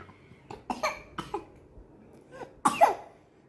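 A child coughs several times at close range in short, sharp bursts. A few quick coughs come early, then a pause, then a final louder double cough.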